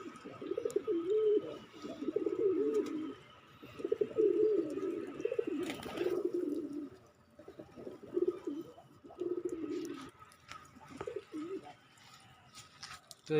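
Pigeons in a small pigeon farm cooing in repeated bursts of low, throaty calls, close and fairly loud, with brief pauses and a sharp knock midway.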